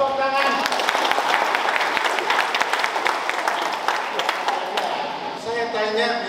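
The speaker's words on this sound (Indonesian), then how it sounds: "Tepuk tangan." A crowd claps in a steady, dense burst for several seconds, with raised voices heard through it that are sometimes cheering, before it tapers off near the end.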